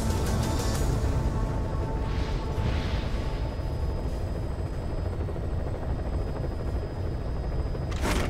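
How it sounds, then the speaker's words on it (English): A helicopter in Metal Gear Solid V: The Phantom Pain drones with a loud, steady rotor roar throughout, close and constant, with brief mechanical clicks near the start and end and no voices. "Need to customize the interior of this helicopter."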